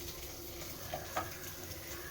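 Onions drop into a hot pan for masala puri and give off a quiet, steady sizzle with a couple of faint stirring clicks, and no voices.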